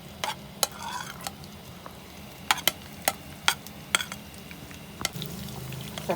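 Onions frying in about half a cup of oil in a pan, a soft steady sizzle underneath sharp clinks and scrapes of a utensil stirring against the metal, repeated irregularly throughout.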